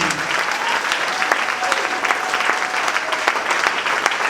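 A church congregation applauding during a French-language worship service, sustained, dense clapping from many hands filling the room, loud and continuous throughout.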